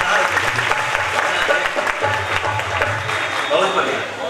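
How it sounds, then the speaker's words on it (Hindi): An audience at a Ram Katha religious discourse breaks into sustained clapping, a dense steady patter from many hands that carries through the whole stretch, with a voice speaking faintly over it. "इसके लिए ताली बजा"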